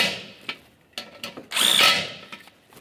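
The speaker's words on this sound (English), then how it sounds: "Let's start in the two center bolts and snug them up." A power tool snugs up the center bolts of a 2012-2018 Nissan Altima front bumper, giving short close whirring bursts with one longer run in the middle and clicks between them.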